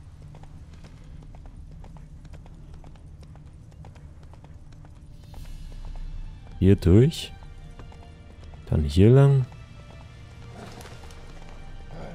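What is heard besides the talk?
horse hooves galloping in The Witcher 3 video game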